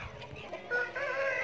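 Hens on a poultry farm flock of laying chickens cluck and call nearby, with a rising crow-like call building toward the end, dense and close with no talk.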